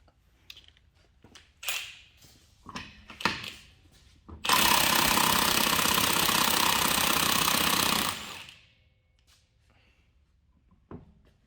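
A Milwaukee 1/2 inch impact wrench working seized lug studs in an auto repair shop lets out one loud sustained burst of hammering for about four seconds, with scattered clanks of tools and handling before and after.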